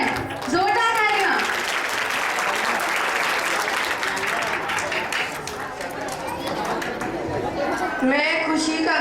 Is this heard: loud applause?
yes